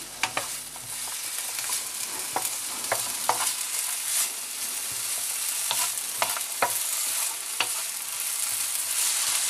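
Sliced onions sizzle and fry in a hot pan for a balsamic onion topping, a loud, steady crackling hiss broken by sharp pops and occasional stirring scrapes, close up with no voices.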